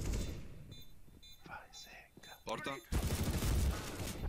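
Bursts of Counter-Strike: Global Offensive gunfire crackle over low, whispered talk in a competitive match, ending in a sustained loud volley of shots.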